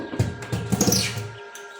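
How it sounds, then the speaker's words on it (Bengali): Tiny newly hatched quail chicks give a few brief, high, faint chirps close by, set against a low background murmur. "ছোট্ট কোয়েল পাখির বাচ্চা।"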